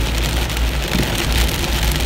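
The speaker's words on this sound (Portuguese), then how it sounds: "Parece que essa é uma chuva bem forte." Heavy rain pours steadily onto a surface during a drive through traffic in Jaraguá do Sul, a dense, constant hiss with a low rumble beneath, loud and close throughout with no voices.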